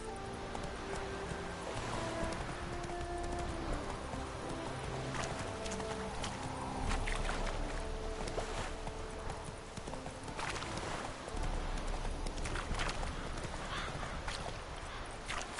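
Roach, Geralt's horse in The Witcher video game, gallops with a steady, continuous clip-clop of hooves that runs loud and close throughout.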